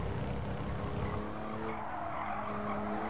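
Car tires screeching through a drift in the racing game Gran Turismo 7, a continuous skid squeal over the engine drone, loud and steady for about three seconds, with no voices.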